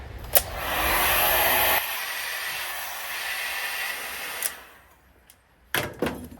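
Heat gun blowing hot air onto a dented car panel during dent removal, a steady close airflow roar for about two seconds that drops to a softer hiss, with a few sharp knocks and clicks near the end.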